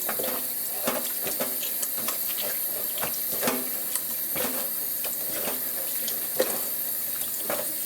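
Tap water pouring steadily over flour dough in a colander, a constant hiss of running water with scattered small splashes and clicks as the dough is rinsed, no voices.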